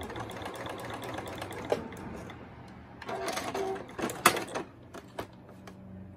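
Sewing machine back-stitching a fabric scrunchie, a close rapid mechanical whirring with clattering bursts and stops, no talking.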